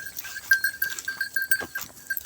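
Goats crossing a long bridge give repeated short bleats amid a busy herd, with a steady ringing tone running underneath throughout.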